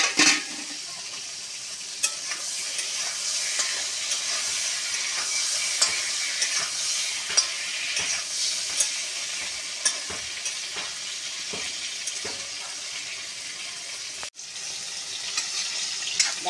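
Pointed gourd (parwal) pieces sizzle steadily in hot oil over a clay earthen stove, with repeated scraping stir strokes punctuating the continuous frying hiss throughout, no talking.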